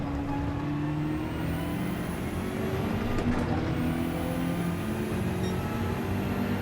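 BMW M6 GT3 endurance race car in Gran Turismo 7 at Le Mans on a drying track, engine droning steadily at high revs with whining tonal layers and a brief gear-change blip midway, loud and continuous.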